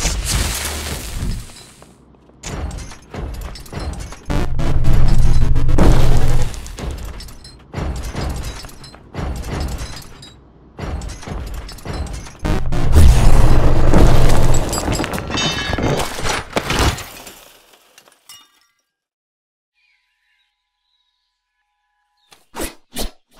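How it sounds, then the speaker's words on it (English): Designed sound effects for a video game Golem boss enemy, built from library samples and voice recordings: heavy booms, rocky crashing and shattering impacts in dense bursts, loud and close, ending in near silence with a couple of sharp hits. "The Golem is a complex enemy that makes a bunch of different sounds."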